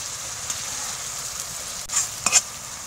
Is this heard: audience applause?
no